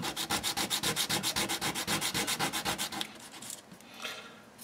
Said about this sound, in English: then I sand it down